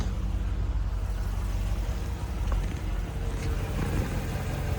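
A Land Rover Discovery II idles smoothly and quietly, a steady low rumble with faint hiss and no revving.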